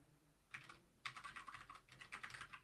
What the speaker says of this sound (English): Steven is typing